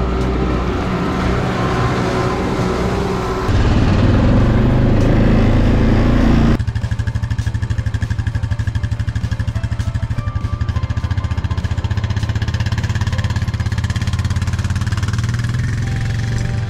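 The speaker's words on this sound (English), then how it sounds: "I'm gonna fire up the Bobcat" A Bobcat skid-steer loader's engine fires up and runs loud and close, a steady low throbbing rumble that shifts pitch partway through as the engine settles and revs.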